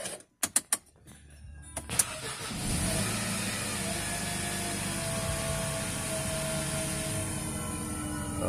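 Mercedes M271 car engine just after a timing chain replacement: a few sharp clicks and cranking bursts, then it catches and settles into a steady, fairly loud idle that runs evenly to the end.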